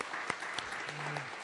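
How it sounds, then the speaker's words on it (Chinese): Brief burst of congregation applause during a church worship service, a dense even wash of many hands clapping at moderate distance with a few sharper claps standing out. "再为我们的神鼓掌"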